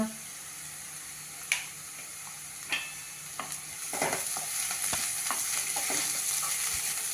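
Carrot and capsicum being stir-fried in a pan: a few isolated utensil knocks at first, then a soft steady sizzle with quick stirring scrapes building up near the mic, fairly quiet overall.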